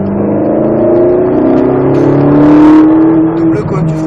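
Ferrari 458 Italia pulling hard on the Croix-en-Ternois race track, its engine note climbing steadily in pitch as it accelerates, loud and close and sustained throughout, with some voice mixed in.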